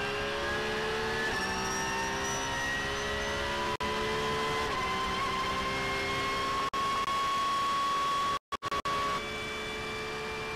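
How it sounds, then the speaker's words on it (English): Race cars from the Nürburgring 24 Hours on the tight Nordschleife circuit howl continuously, their engines rising and shifting in pitch as they accelerate and pass. The sound is loud and sustained, with a couple of brief dropouts. "we can just admire how beautiful these cars are, snaking their way through this tight Nordschleife circuit"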